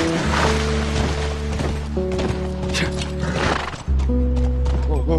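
In The Last of Us, a horse lets out a loud, close neigh and whinny while hooves clop underneath, set against sustained in-game music tones, with a voice talking briefly.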